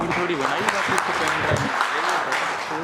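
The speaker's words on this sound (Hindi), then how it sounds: "जोरदार तालियों से स्वागत" Audience applause welcomes a school staff member onto the stage at a Sainik School Rewari Founder's Day cultural programme. A steady wash of clapping continues throughout, with a voice talking over it.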